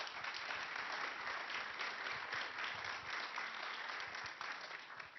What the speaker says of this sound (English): can I get one final round of applause for our panelists, please?